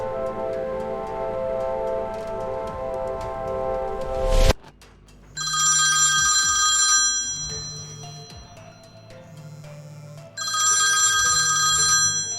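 A telephone rings in a Telugu suspense thriller: a held chiming tone gives way after a sharp click to a repeating electronic ring in bursts with a low buzzing pulse, separated by quieter gaps.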